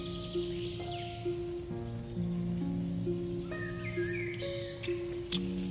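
Rain falls steadily during an outdoor black carp fishing trip after a storm, a soft continuous patter with steady tones and faint bird-like chirps in the background.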